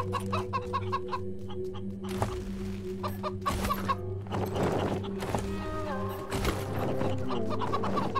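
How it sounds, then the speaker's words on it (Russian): Chickens cluck repeatedly in the video game Wasteland 3, several birds calling in short bursts over steady ambient game music and background sound. "Здесь у нас есть курочки."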